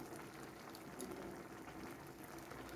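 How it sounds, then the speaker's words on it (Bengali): Chana dal simmers in a covered pot, a faint, soft, continuous bubbling with light irregular pops, close by and very quiet, with no voices. "ঢাকা দিয়ে এখন ফুটতে দিই কিছুক্ষণ।"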